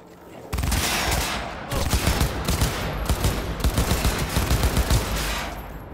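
Rapid gunfire in Cyberpunk 2077 at a training range, a dense, loud stream of shots that starts abruptly and carries on in pulsing bursts until the end.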